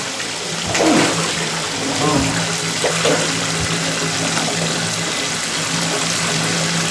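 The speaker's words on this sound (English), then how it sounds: "now we drain and add hot water" Water rushes and splashes steadily as a tub drains and hot water pours in, a continuous broadband wash with a few louder surges and faint indistinct voices in the background.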